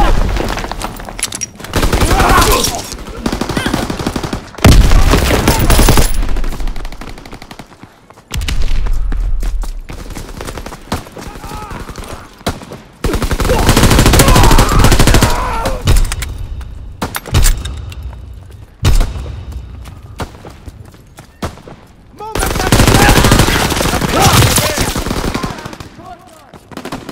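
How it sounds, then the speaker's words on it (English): Sustained machine-gun bursts and rifle fire crackle through a Call of Duty: WWII battle on PC, loud and dense in several long volleys separated by brief lulls, with booms and thuds mixed in. "Enemy fire!"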